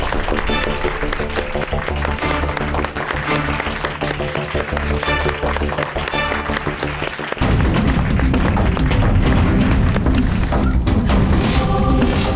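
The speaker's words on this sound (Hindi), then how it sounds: "सो तालियों के साथ स्वागत कीजिए अवस्थी इंडस्ट्रीज की नई सीईओ मिसेस रूपाली अवस्थी" Dense applause breaks out to welcome Awasthi Industries' new CEO, Mrs. Rupali Awasthi Sharma, carrying on steadily under background music and growing louder and fuller partway through.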